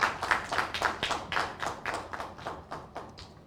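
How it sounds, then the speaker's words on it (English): Audience hand clapping at a rule of law report presentation, a steady run of sharp claps spread across the whole stretch, moderately loud and fading slightly toward the end, with no talk over it. "Let's give Tabitha a big hand clap"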